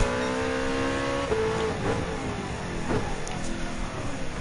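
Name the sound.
1963 Corvette Stingray racing engine in Gran Turismo 7, from a video game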